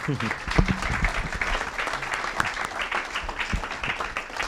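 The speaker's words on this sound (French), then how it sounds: "tout le monde peut vous applaudir ce soir" Audience applause at an evening presentation for an endowment fund, a steady wash of clapping with voices talking and calling out over it, a few sharper claps standing out.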